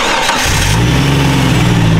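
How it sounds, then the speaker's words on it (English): A Jeep Wrangler engine cranks and catches, then settles into a loud, rumbling idle that builds steadily close by, with no voices over it. "That's that real Jeep Wrangler power."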